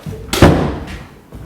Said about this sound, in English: Close the door, come back.